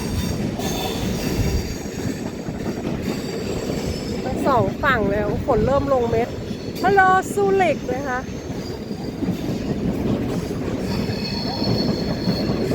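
A train rumbling past in Zurich with loud metallic wheel squeals rising and falling in the middle, while someone talks over the noise.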